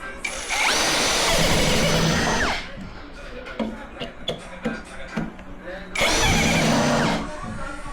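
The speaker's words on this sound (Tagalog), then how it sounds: "papakita natin kung gaano katindi ang drill ni Tansu" Tanzu 800 Nm cordless drill in drill mode whirs loudly for about two seconds, stops amid clicks and handling, then spins up again near the end, close by.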